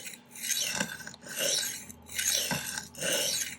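A knife is sharpened freehand on a stone, taking metal off one side of the edge in four long, even rasping strokes with short pauses between them. The sound is loud and close, with no talking.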